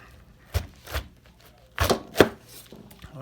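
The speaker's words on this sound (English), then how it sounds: "First thing you do is you cut it right down the middle." A knife chops through a head of cabbage, cutting it down the middle for sauerkraut in a kitchen: four sharp, separate thuds spaced unevenly over a few seconds, close and moderately loud with no talk.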